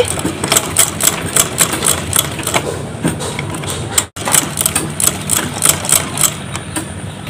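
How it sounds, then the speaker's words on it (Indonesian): Sewing machine stitching elastic into a skirt waistband, a steady rapid mechanical whirr with regular pulsing, close and continuous apart from a brief stop midway. "Kalau roknya udah dipakai, biar aku jahit yang aku pentulin ini."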